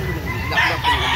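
A chicken clucks nearby, a short run of throaty clucks over a low background murmur.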